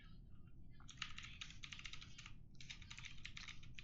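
Fast typing on a computer keyboard while playing Among Us, a close, quiet, dense run of key clicks with a brief pause partway through, no talk.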